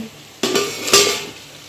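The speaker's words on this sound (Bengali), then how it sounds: "কাকরোল ভাজার আলু ভাজাটা হচ্ছে" Potatoes fry in a pan while a spatula stirs them, giving two sharp clattering scrapes over a faint sizzle.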